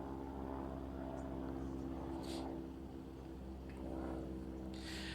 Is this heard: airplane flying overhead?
yes